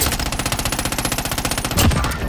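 Rapid automatic gunfire from a shooter video game, a steady stream of about four shots per second, loud and close, with a heavier burst near the end; no talking over it.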